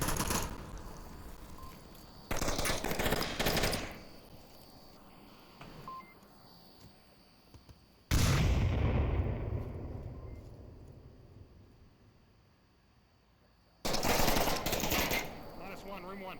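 Bursts of gunfire and a grenade explosion ring out in a competitive Onward VR tactical shooter match: dense rapid-fire volleys in separate bursts, one booming blast decaying slowly, with steady beeping in the background.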